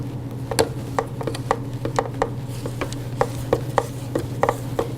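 A spatula scrapes cake batter around a mixing bowl for a torte, a series of short, soft rasping strokes repeating at an uneven rhythm, close by and fairly quiet.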